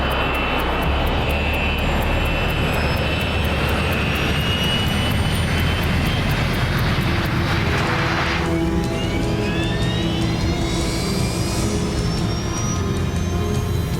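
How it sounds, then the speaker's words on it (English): A Boeing 727 jet airliner of Northwest flight 299 roars down the runway on its takeoff roll, a loud, steady jet engine rumble with rising whine that holds throughout, no voices over it. "The 727 is seconds away from leaving the ground."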